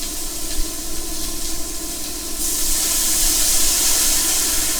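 Merlot vinegar poured into a very hot, well-browned frying pan hisses and sizzles loudly and steadily, growing brighter and stronger halfway through as the deglazing continues, close and alone.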